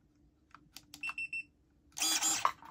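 STIHL ASA 20 cordless garden shears give a few short quiet electronic beeps, then a brief close crunchy snip as the blades close on a branch, with near silence around it.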